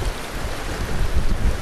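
Rough river rapids rushing over rocks as boatmen push boats upstream; a loud, steady roar of churning water mixed with wind buffeting close by, with no voices.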